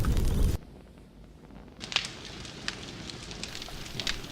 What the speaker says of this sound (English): that's a freaking campfire